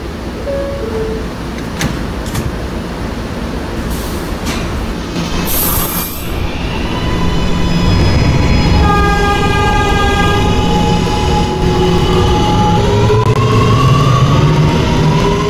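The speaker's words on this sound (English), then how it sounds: "This is a 53rd Street bound R train via the end line." An R train on the New York subway rolls loud and close, with a steady rumble of wheels on rails, metallic clatter and rising tonal squeals and whines as it gathers speed.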